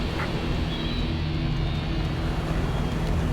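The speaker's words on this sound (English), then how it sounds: "Supersonic aircraft." Supersonic jet aircraft in the C&C Generals Zero Hour strategy game, a steady dense roar with a broad rushing tone that holds constant and loud for the whole moment.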